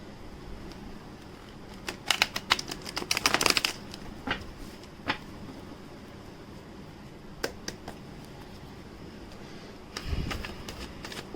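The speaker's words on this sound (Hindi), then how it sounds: "शफल कर लेते हैं" Tarot cards are shuffled in quick riffling bursts near the start and again toward the end, with quieter gaps of soft handling between them; no one speaks.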